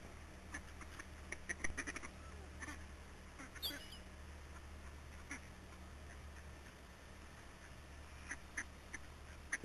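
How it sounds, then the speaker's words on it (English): Ducks being fed at lunchtime near a parking lot quack in scattered, nearby bursts, some in quick clusters, over a soft steady outdoor hum with other birds calling faintly. "Now I see why people feed the ducks."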